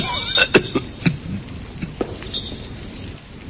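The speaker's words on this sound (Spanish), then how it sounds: "El ataque de tos le impidió responderme al momento." A coughing fit voiced in a Spanish audiobook of Poe's The Cask of Amontillado, several harsh separate coughs early and a few fainter ones later.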